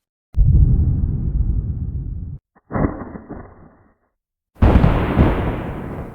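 Three separate deep thunder rumbles, each booming in with a heavy crack and rolling off, with short silences between them.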